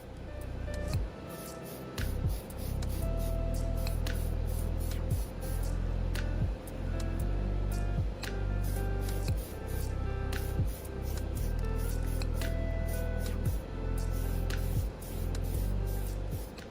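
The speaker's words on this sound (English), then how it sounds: "so another coat of primer was applied" An aerosol can sprays primer onto a 1/24 scale BMW M4 model car body in several long hissing bursts, each a few seconds long with short pauses between, close and steady.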